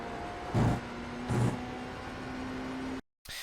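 A GTP prototype race car at full speed in the iRacing sim, a steady high engine drone with two brief louder whooshing bursts, then a short dropout of silence before the engine tone returns.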